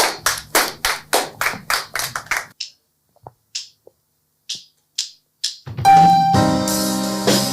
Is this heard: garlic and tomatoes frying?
no